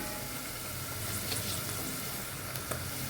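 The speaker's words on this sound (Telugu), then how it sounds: "ఆనియన్ వేగుతూ ఉన్నప్పుడే పసుపు సాల్ట్ వేసుకున్నామండి." Onions frying in a pan with turmeric and salt for an Andhra-style methi vegetable curry, a steady close sizzle with faint stirring scrapes and no voices.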